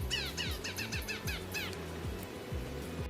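Gray-headed flatbill singing a fairly loud series of repeated, descending chirps in quick succession, standing out over a steady low rumble in the background.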